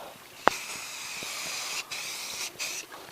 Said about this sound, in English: Little spray here.